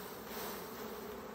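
Honey bees hum steadily from an opened backyard hive during an inspection, a dense, continuous buzz of many insects close by with no pauses.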